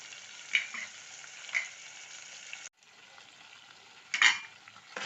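Brinjal and potatoes with spices fry and get stirred in a pan, a soft steady sizzle broken by a few sharp scraping strokes of the spoon, close and without talk.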